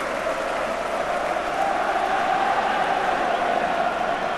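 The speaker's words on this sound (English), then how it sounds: "And listen to the applause." A stadium crowd at a 1985 Manchester City v Charlton Athletic football match gives a broad, sustained wash of applause and crowd noise, distant and even, with a faint hum running underneath.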